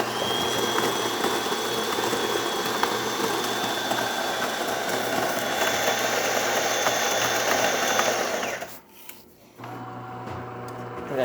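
A DeLonghi espresso machine pulls a single shot with a steady loud pump drone and hum, then cuts out abruptly near the end before a quieter hum resumes.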